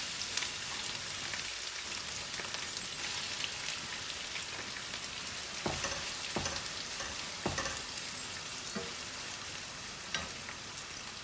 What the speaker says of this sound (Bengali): আমি এখন পেঁয়াজটা দিয়ে দিচ্ছি খাট্টার মধ্যে।